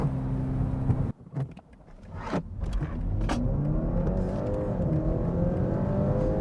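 A BMW 330e hybrid with a quad exhaust pulls away hard on a rainy road: a brief lull, then the engine swells into a loud, steady roar that climbs in pitch and holds, with no talking over it.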